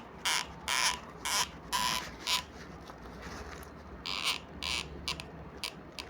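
A lubricated hand ratchet tool clicks in a series of short, rapid bursts as it is turned, each run of dry metallic ticks close and fairly quiet, with brief pauses between strokes.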